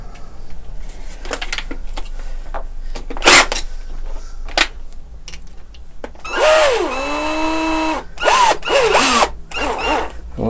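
A power drill in a workshop drives a screw hole into wood in short bursts, with clicks and handling knocks between, then longer whirring runs with the motor pitch dropping and rising under load.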